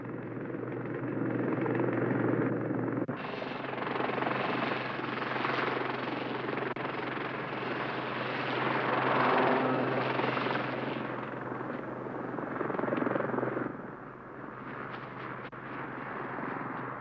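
A Lynx military helicopter flies past with a loud, steady rotor and turbine roar that swells and fades slightly over its length. The noise continues without a break.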